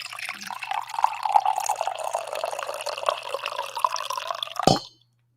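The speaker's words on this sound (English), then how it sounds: "I promised one final coffee pour here for the road." Coffee poured into a cup, a steady close liquid stream with a rising gurgling pitch as the cup fills, ending abruptly with a small clink.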